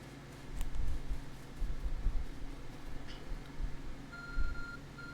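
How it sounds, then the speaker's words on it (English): Glowing phone object in Pokémon Legends: Arceus giving off faint electronic beeps, including a short steady tone near the end, over a quiet game background. "There's a glowing beeping object."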